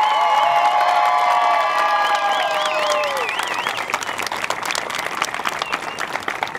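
A crowd at a 2020 secondary school graduation ceremony breaks into sustained applause, with high whoops and cheers at first, then a dense wall of clapping.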